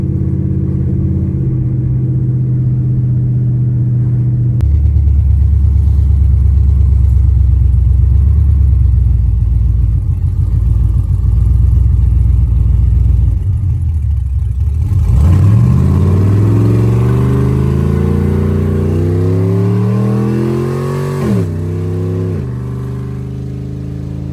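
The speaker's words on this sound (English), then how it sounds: "We're gonna do some burnouts here shortly." A junkyard-built F-body car's engine roars loudly and steadily up close, then revs repeatedly with its pitch climbing and falling during burnouts.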